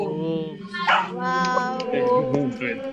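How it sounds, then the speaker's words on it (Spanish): A dog barks during a live comedy podcast recording: a few close, whiny yips and barks run through the whole stretch, rising and falling in pitch, with a voice faintly underneath. "Ahí ladró un perro."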